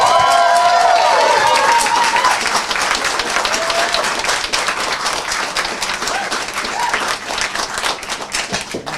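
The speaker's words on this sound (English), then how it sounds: "a round of applause" An audience at a city council welcome during a Town Meeting Day gathering breaks into loud, sustained applause and clapping. A brief voice opens the clip, and the clapping thins and fades slightly toward the end.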